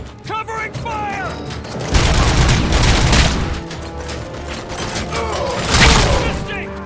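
Gunfire erupts in a RoboCop: Rogue City firefight, with dense overlapping shots and heavy impacts building into loud sustained volleys, while a voice calls out over the shooting.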